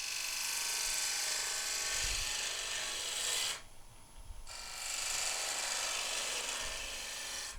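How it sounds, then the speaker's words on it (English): A spindle gouge cuts a spinning wood blank on a lathe, giving a steady, loud rasping hiss that drops out briefly partway through and then resumes. "With a spindle gouge, you're twisting it to keep the bevel rubbing."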